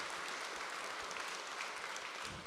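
An audience applauds after a presentation at a trading-night event, a steady wash of clapping, fairly faint and even throughout, with no voices over it.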